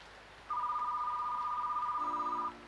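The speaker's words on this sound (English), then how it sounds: "Answer the phone in the office." Telephone ringer in an office sounds one steady electronic tone of about two seconds, with a lower second tone joining near the end, clear against a quiet room with no talk.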